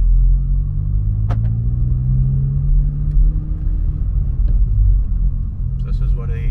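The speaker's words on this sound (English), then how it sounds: "So this is what a muffler delete sounds like inside the car." Inside a VW Mk7 GTI with an ECS Tuning muffler delete, a deep, loud exhaust drone and rumble fills the cabin while cruising slowly in low gear, with faint clicks over it.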